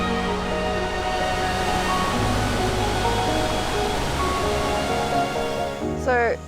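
Sioma Falls in Zambia, a broad horseshoe of waterfalls, gives a steady, full-bodied roar of pouring water close by, with a brief voice near the end.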